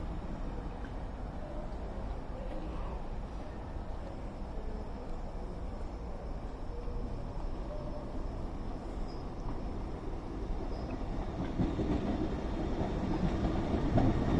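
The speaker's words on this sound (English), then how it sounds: "Also coming in now, we have the 1118 Northern service to Buxton from Manchester Piccadilly" A Northern passenger train, the service to Buxton from Manchester Piccadilly, pulls into Stockport station with a low, steady rumble that slowly grows louder toward the end, heard alone without talk.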